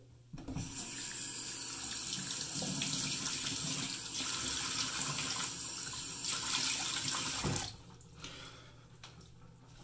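A bathroom tap runs steadily for several seconds as water wets the face before a shave, a close, even gush with splashing that stops abruptly near the end, leaving quiet drips.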